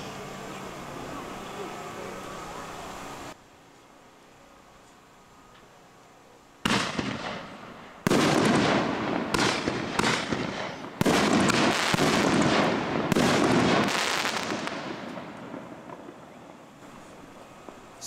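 Extra large 5-inch consumer firework can shells go off in a fast series of loud, sharp booms and crackling bursts outdoors, after a stretch of wind noise and quiet.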